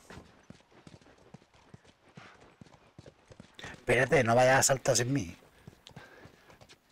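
Steady clip-clop of trotting horse hooves in the video game The Last of Us runs throughout, with a person talking over it and a louder shout partway through.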